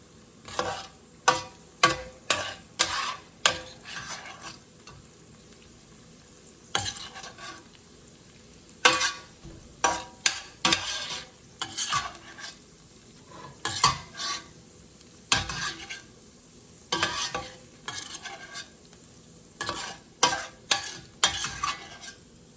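Onions, bacon and garlic stirred in a skillet: a close series of quick scraping strokes, some clustered and some spaced out, with a light sizzle underneath and no voices.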